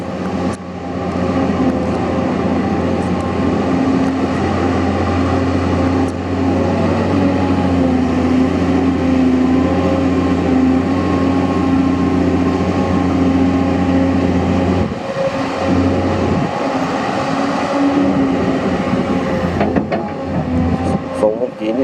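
A Hidromek LC220-2 excavator's diesel engine, roughly 155 horsepower, runs steadily and loud for the whole stretch, a continuous close rumble with a brief dip in level near the end.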